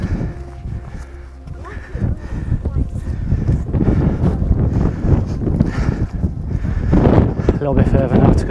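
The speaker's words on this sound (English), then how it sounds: "It's very windy, so I hope you can hear me with all this noise." Strong gusting wind buffets the microphone on an exposed mountain hiking trail at Pen y Fan, a loud continuous low roar with rumbling bursts throughout while a hiker talks underneath.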